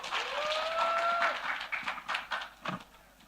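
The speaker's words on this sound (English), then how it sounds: "Can you please clap your hands for my panelists" Audience at a youth summit clapping for panelists; a rising tonal whine opens the moment, then scattered claps sound out in uneven bursts that thin toward the end.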